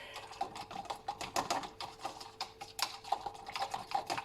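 Xanthan gum is whisked briskly into a face cleansing gel, producing fast irregular ticking and tapping of the whisk against the bowl, close and fairly quiet, with no voices.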